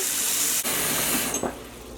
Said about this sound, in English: we're going to fill a pot with some water